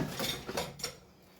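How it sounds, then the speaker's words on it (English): A spoon is picked out from among cutlery, a short jangle of metal utensils clinking together close by, then trailing off into quiet. "I gotta get a spoon here"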